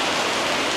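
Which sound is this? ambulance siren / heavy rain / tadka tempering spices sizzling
heavy rain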